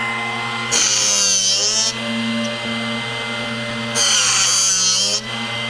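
A Drill Doctor drill bit sharpener runs with a steady motorized whine, its grinding pitch rising in two loud bursts as a bit is rocked against the wheel, then settling back to a quieter hum.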